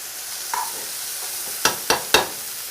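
Onions and vegetables for venison stroganoff simmer in a pan with a steady, even sizzle, and three sharp utensil clinks land close together near the end.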